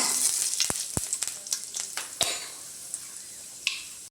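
Mustard seeds and fenugreek crackle in hot oil, a bright close sizzle broken by sharp pops and spits scattered through it, with a few clinks of metal, no speech.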